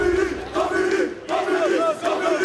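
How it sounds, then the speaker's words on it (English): A large esports crowd at a Tekken 8 tournament chants a player's name in unison, in loud rhythmic repeated bursts with brief dips between them, filling the hall. "That chant is very infectious"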